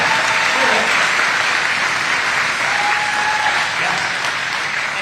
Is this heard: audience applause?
yes